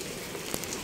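Steady rain patters on a surface outdoors where stray cats shelter, a soft, even hiss with a faint drip or tap standing out midway through.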